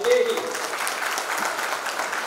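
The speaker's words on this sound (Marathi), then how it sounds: "टाळ्या वाजवायच्या" Audience applause at a health lecture: a short burst of dense clapping from a crowd, steady and moderately loud, with a voice briefly heard at the start.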